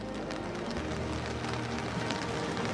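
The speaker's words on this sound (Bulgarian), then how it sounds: "Чувам, че по някъде барабани дъжда. Предполагам, че е по чадъра на Мирела." Rain drums on an umbrella outdoors in Veliko Tarnovo during a TV news link, a dense continuous patter and hiss filling the clip, loud and close with no talk.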